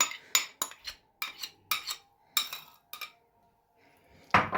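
A metal spoon stirring carrots into yogurt in a bowl, a run of about nine sharp clinks and scrapes at an uneven pace, close and fairly loud, separated by brief quiet gaps.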